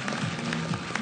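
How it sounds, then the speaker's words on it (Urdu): Studio applause for the Islamabad United cricket team after a KK vs IU match, a steady broadband patter of clapping from a small crowd that stays even for a brief stretch, with faint voices mixed in. "دوبارہ بہت ساری تالیاں اسلام آباد یونائیٹڈ کے لیے"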